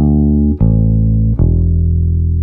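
Bass guitar played with a sliding finger rake across the strings, three loud sustained low notes, the second and third landing with a quick swept attack and ringing on.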